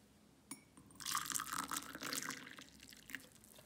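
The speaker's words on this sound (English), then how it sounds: "And then I pour boiling water over them" Boiling water is poured from a kettle over paint brushes in a small container, a soft splashing trickle that starts after a light clink and runs on, fairly quiet and close.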